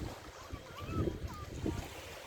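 Steady wind gusting across the coast near Alaçatı, a rushing low roar with some rumbling microphone buffeting, heard up close for a couple of seconds.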